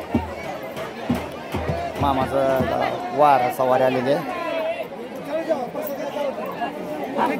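A packed crowd of devotees gathers for the Balumama aarti in Sonke village, producing a dense, steady murmur of many voices with one person talking close by over it.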